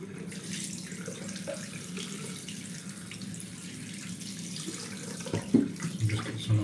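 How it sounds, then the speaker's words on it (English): Water from a tap runs steadily into a sink during a shave, a continuous close hiss and splash with a few louder knocks and splashes near the end. "So I'll just get some fresh water in the sink."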